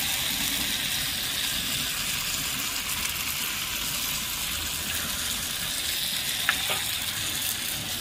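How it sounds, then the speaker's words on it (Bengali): Potatoes fry in a pan with a steady, dense sizzle that continues without a break, with one brief scrape of a utensil near the end. "আলুর সাথে ভালোভাবে কষানো হয়ে গেছে"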